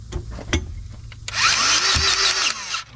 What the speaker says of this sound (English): Let's see if we've got any grease left in this gun.